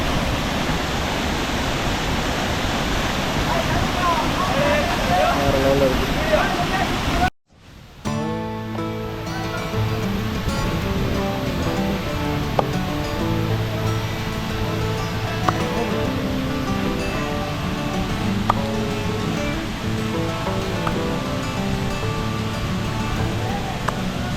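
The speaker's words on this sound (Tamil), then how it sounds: "தண்ணி பாருங்கள் வேறு லெவலில் விழுகுது" Hogenakkal waterfall in India: water crashes down in a loud, steady, roaring rush for several seconds, then an abrupt cut to a busier mix with tonal sounds over the continuing water noise.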